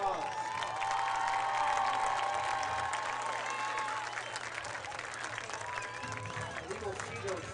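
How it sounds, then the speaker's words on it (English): A crowd at a high school football game between the Lutheran Cougars and St. Mary's Dragons claps steadily for the cheerleaders and Sapphires dance team. The sustained, dense applause fades slightly toward the end. "thank them for what they do each and every night with a quick round of applause"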